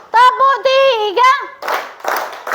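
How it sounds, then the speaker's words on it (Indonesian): A classroom of children clapping their hands together on cue, a few quick sharp bursts following a woman's sung or chanted lead. "Tepuk tangan semua."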